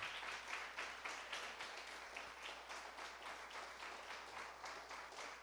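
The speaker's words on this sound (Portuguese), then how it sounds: "Você pode aplaudir ao Senhor por isso." A church congregation applauds steadily, a dense wash of many hands clapping at moderate distance, even and sustained throughout without voices on top.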